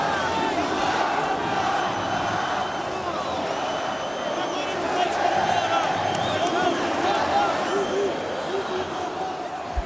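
An agitated football crowd fills Mineirão stadium with a constant roar of shouting and chanting, loud and steady throughout, with a commentator talking over it.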